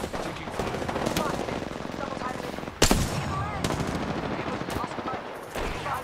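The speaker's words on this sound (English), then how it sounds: "I am taking fire, friends." Rapid automatic gunfire bursts in an Apex Legends firefight, dense and continuous with a sharp louder shot near the middle, heard under a player's talk.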